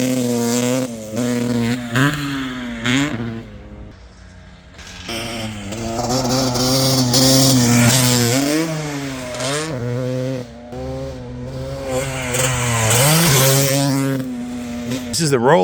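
A motocross bike tears along a natural terrain MX track cut through Georgia woods at Durhamtown, its engine revving up and dropping repeatedly through the rollers, loud and near, with speech at times.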